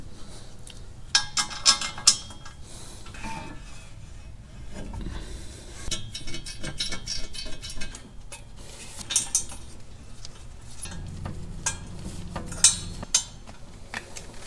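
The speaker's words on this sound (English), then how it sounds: "And now I can put the header on." Metal parts clinking and scraping while an exhaust header is fitted onto a Dodge 5.2L/5.9L Magnum V8, with scattered close metallic taps and clanks over a steady low background.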